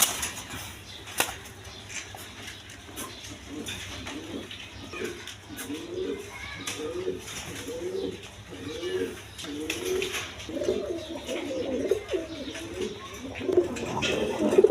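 A pair of Panja pigeons coos in a repeated run of soft, rhythmic calls from about five seconds on, close but fairly quiet. A faint wing flap comes early, and there is a low background hum.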